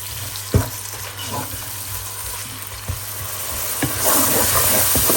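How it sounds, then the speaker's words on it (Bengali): Onion and garlic fry in a pan for a chicken curry cooked without water, sizzling steadily with a few sharp spatula knocks, then hissing louder near the end. "এগুলোকে এখন আমি ভালো করে ভেজে নিব।"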